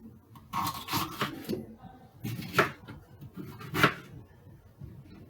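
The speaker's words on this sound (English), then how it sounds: "First, I will chop my pepper along the sides like this." Knife chopping a pepper on a cutting board, with several uneven clusters of crisp cuts and knocks spaced a second or so apart, close and moderately loud, with faint talk in the background.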